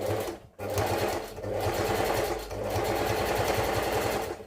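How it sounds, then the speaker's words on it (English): A sewing machine runs close and loud, stitching fabric at a half-inch seam with the smallest stitch length in long continuous bursts of rapid needle chatter, stopping briefly between runs, with no talking. "we are going to go ahead and stitch this part up. I will stitching it by 1/2 inch."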